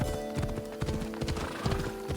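Rhythmic clip-clop of horse hooves at a steady trot in the video game Assassin's Creed Odyssey, close and clear, with a brief whinny in the background.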